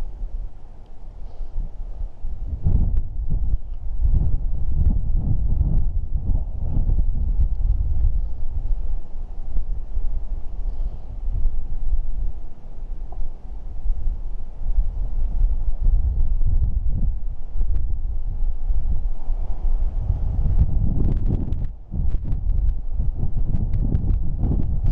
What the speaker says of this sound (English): you can see how wild it is now, so wind's picking up all the time